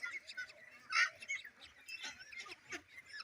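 White Pekin ducks about 32 days old on a duck farm, giving a few close honking, quacking calls, one louder call standing out among softer intermittent ones.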